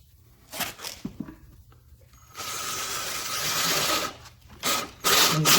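A driver runs TimberTech deck fastener screws into decking, with some handling clicks first and then a sustained whirring, grinding burst of the screw going in, followed by shorter bursts as it is snugged up.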